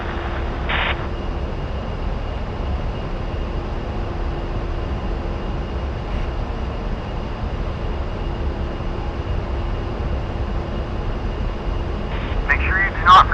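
Twin jet engines of an A-10C roll for takeoff in the DCS flight simulator, a steady, loud, unbroken roar that holds for the whole stretch.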